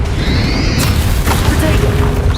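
Confringo fire-blast spell from Hogwarts Legacy, a booming burst landing partway in over dense rumbling battle noise, with a voice murmuring underneath.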